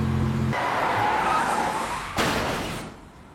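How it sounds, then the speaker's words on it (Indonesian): In a film scene, a car suddenly appears and crashes into another car, giving an abrupt loud burst of engine roar and impact noise, then a second hard crash before it fades. "sebuah mobil tiba-tiba muncul dan menabrak mobilnya"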